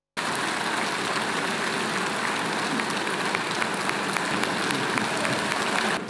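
Sustained applause from the audience at a congress meeting after the Prime Minister's reappointment is announced, a dense and steady roar of many hands lasting several seconds with no voices.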